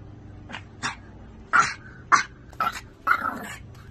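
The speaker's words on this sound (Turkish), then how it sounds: "Olan enerjisini de havlamaya veriyor zaten gün boyu" A small, roughly two-kilogram Pomeranian growls and snaps out short, sharp barks, about six harsh bursts at close range that grow louder toward the end, with no talking over them.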